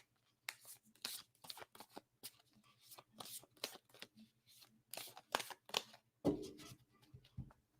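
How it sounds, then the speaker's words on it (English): Stiff new tarot cards being shuffled in repeated quick riffling bursts, each a crisp papery flutter, close but fairly quiet, with a sharper slap of the deck near the end. "These are really hard to shuffle, so I gotta break them in a little bit."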